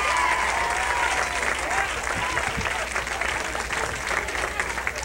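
A stand-up comedy crowd answers a show-of-hands poll with dense, continuous applause that fills the room evenly from start to finish.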